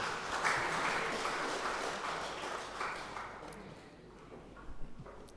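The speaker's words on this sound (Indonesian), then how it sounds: "Kita beri tepuk tangan sekali lagi." A church congregation claps together during a Sunday service in Bekasi, a steady mid-level patter of many hands that thins toward the end, with a few sharper claps near the close.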